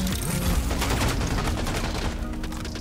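Loud, sustained gunfire in the video game Rogue Company, a fast fusillade of close shots that runs without a break.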